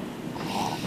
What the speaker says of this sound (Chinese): 你打呼的声音会不会太大声啦？